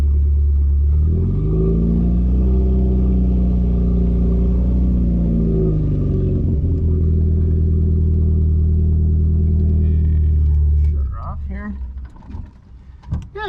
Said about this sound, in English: around town, it's a really nice car to drive